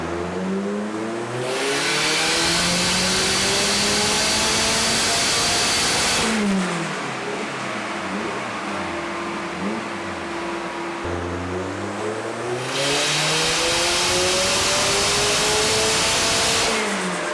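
A twin-turbo Ford Fiesta engine revs hard on a dyno, with loud, sustained pulls whose pitch climbs steadily, drops away and then climbs again across the run, filling the clip with no talk.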